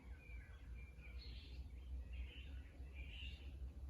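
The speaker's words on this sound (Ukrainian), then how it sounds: "І як почуєте, то трохи співу пташок. ранішнього" Faint morning birdsong outdoors in a garden with a climbing rose, thin chirps and short warbled phrases drifting from a distance over a steady low rumble of background noise.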